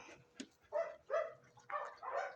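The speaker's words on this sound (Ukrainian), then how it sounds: "каштанчик закритий гавкає" A dog shut indoors barks and whimpers in a short run of four or five muffled, moderately distant yelps and barks, with no talk.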